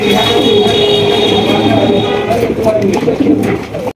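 A dense, loud wash of cooing pigeons at a pigeon farm fills the whole stretch, steady and close, with a low rumbling undertone and some voices mixed in.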